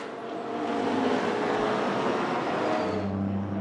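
A BMW Z4 GT race car roars past at the Sachsenring circuit, a steady loud engine rumble and road noise that swells and holds before easing slightly at the end.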